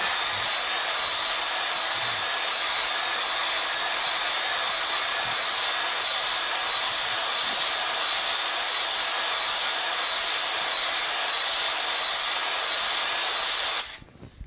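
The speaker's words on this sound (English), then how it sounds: "first pass with the ball hone" A ball hone works inside an engine cylinder bore for a 1967 Dodge Dart, lubricated with diesel, producing a loud, steady broadband hiss and grinding whir that holds for about fourteen seconds before cutting off abruptly.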